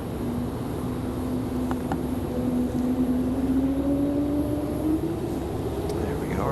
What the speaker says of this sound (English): There we go, our A220 spooling up.